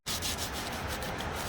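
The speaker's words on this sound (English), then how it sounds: "sanding it and cleaning it first" Close, continuous scratchy rubbing of sandpaper against a metal brake caliper on a Dodge Ram 1500, steady strokes with no voices.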